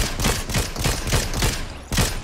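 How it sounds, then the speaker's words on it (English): Rhythmic volley of gunshots in a Fortnite match, about seven evenly spaced sharp reports over a couple of seconds, loud and close with a short gap before the final shot. "I'm getting shot from guys."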